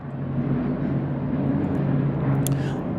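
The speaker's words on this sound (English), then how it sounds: "So there's a plane flying right now." An airplane flying overhead outdoors, a steady low droning hum that stays constant throughout, fairly loud and unbroken.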